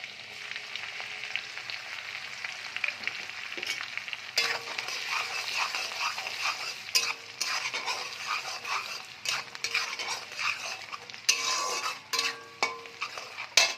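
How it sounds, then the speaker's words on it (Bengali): Chopped ginger and garlic frying in hot oil in a pan, a steady crackling sizzle with scattered stirring clatter throughout, close and fairly loud with no voices. "আগে আমি আদা রসুন কুচিটা দিয়ে দেব।"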